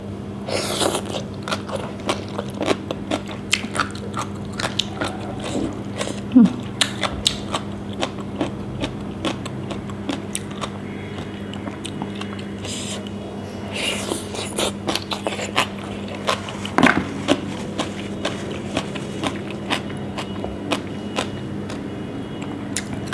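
Close, crunchy biting and chewing on Thai bitter gourd and papaya salad, with a steady run of short crisp crunches and mouth sounds over a low background hum, and no talking.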